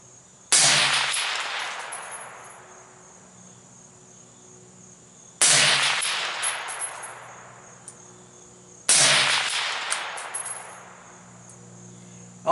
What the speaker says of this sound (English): I wanted to shoot this though so you could see about the pace I'm shooting at 200 yards with this gun and scope